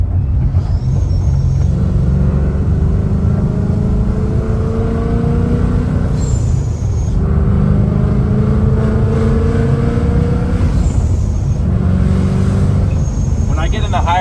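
A supercharged Ford Mustang GT runs loud and close through a series of downshifts, its exhaust rumbling steadily while the revs sweep up and drop off again in repeated cycles, with a faint whine above.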